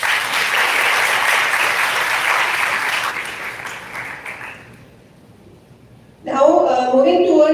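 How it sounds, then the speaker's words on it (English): Applause from a seminar audience at a live pharmacovigilance event, steady and fairly loud for about five seconds, fading to near quiet, then a voice speaks. "So please give her a huge round of applause"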